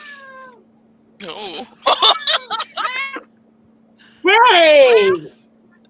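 An orange cat meows close by, several short chirping meows in a quick cluster and then one longer, louder drawn-out meow, with people talking briefly around them.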